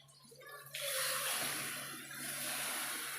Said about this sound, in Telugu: 2 కప్పు వాటర్ యాడ్ చేశాను